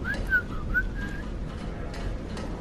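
Characters whistle a short, lilting melody while working in a workshop in the video game Call of the Sea, a light tune of a few rising and falling notes, soft over faint background ambience.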